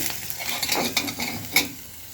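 A lid comes off a frying pan where a masoor dal chilla is cooking, giving a few soft metallic clinks and scrapes over a gentle sizzle, close by, with no talk.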